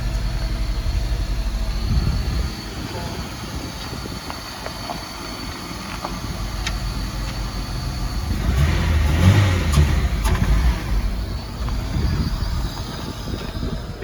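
A Honda DC5 Integra Type R engine runs steadily with a broad, rumbling drone during a tuning session. The engine swells louder for a couple of seconds partway through, then settles back to a steady run.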